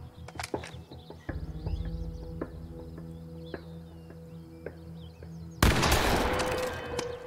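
Sharp gunshots ring out in the video game The Quarry, several separate cracks spaced across a quiet background, followed near the end by a louder, sustained burst of noise.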